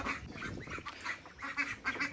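Several ducks quack over and over close by, a busy, uneven chorus of nasal calls with no talking.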